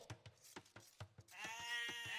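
Sheep in Age of Empires II give a quick run of short, rhythmic clicks and pulses, then one clear, drawn-out bleat at close range with no talk over it.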